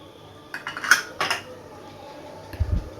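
Chopped almonds and cashews drop into a pan of ghee on a low flame, with a few sharp metallic clinks and taps of a spoon against the pan close up, then a soft knock.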